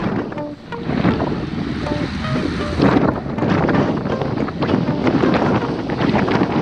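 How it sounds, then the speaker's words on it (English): Strong wind buffeting the microphone during an outdoor group bicycle ride on Capitol Hill Drive, a loud continuous roar that rises and falls in gusts. "You hear that wind, it's blowing."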